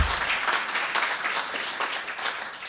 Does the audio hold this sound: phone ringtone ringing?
no